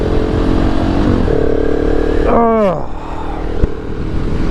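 A 2019 KTM 690 SMC R single-cylinder motorcycle engine runs steadily through a ride with a loud, continuous drone, and its pitch sweeps downward partway through. A brief spoken exclamation sits over the engine noise.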